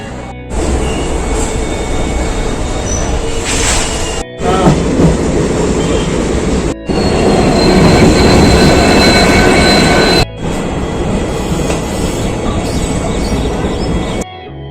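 An empty passenger train runs toward Nandi station, a loud, continuous rumble and rattle of wheels and carriages, broken by a few brief sharp dropouts, with no one talking.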